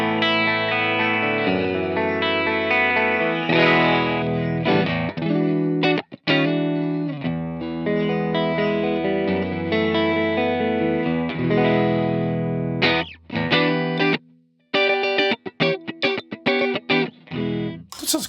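Electric guitar through a Line 6 HX Super Normal amp model with a 4x10 cabinet at default settings, playing sustained chords and melodic lines, then choppier muted stabs toward the end, loud and alone.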